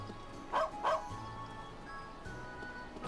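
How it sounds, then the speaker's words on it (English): A dog in the video game Trails of Cold Steel II gives two quick barks over soft game background music, fairly close and clear. "Is it the dog?"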